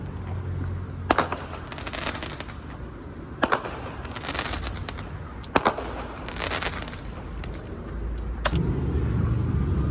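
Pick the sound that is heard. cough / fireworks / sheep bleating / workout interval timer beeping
fireworks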